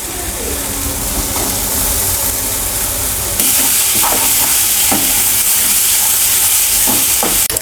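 Mashed paneer hits hot oil in a pan, breaking into a loud, continuous sizzle, while a utensil stirs with repeated scraping strokes close by.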